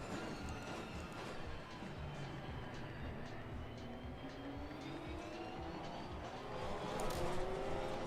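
Race car engine roaring continuously in the Assetto Corsa racing game, loud and steady as the car pulls away from the start on cold tyres, with pitch sweeping upward and a faint tire squeal.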